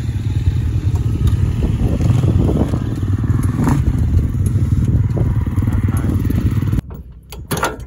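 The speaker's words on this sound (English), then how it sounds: "All right, rev her up." A vehicle engine revving loudly and continuously at close range on frozen dunes, a steady rough drone that cuts off abruptly near the end.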